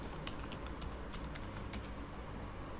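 Quiet typing on a computer keyboard during blog template editing, a brisk run of light, scattered keystroke clicks close by over faint background hiss, without talk.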